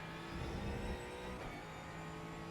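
A Ford Mustang GT4 race car in iRacing at Montreal's Circuit Gilles Villeneuve powers out of the hairpin in first gear, its engine droning steadily and rising under throttle at moderate volume with no voices.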